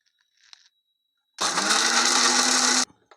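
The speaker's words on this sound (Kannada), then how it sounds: "ಇದು ತಣ್ಣಗಾದ ಮೇಲೆ ಮಿಕ್ಸಿ ಮಾಡ್ಕೋಬೇಕು" A mixer grinder jar grinding cooled roasted masala with a little water, a loud steady motor whir that starts abruptly, runs about one and a half seconds and cuts off, preceded by a faint click.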